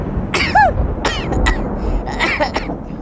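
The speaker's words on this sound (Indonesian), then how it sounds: "Kok aku jadi batuk gini ya?" A string of rough, forceful coughs, four or five bursts spread unevenly over a few seconds, close and fairly loud with a bit of throaty voicing.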